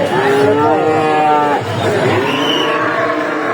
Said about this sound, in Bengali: দেখুন দর্শক রানী জাতের খুব সুন্দর একটি বকনা